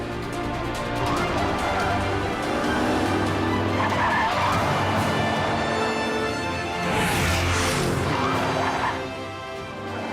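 A toy Matchbox car races and skids across a desert scene, with continuous engine-like roar and squealing skids, loud and steady throughout, over a bed of music.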